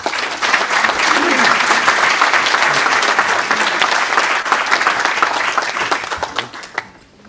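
An audience at a Rotary club gathering applauds loudly to welcome a speaker, a dense, sustained burst of clapping that holds steady for several seconds before tapering off, with a few voices mixed in.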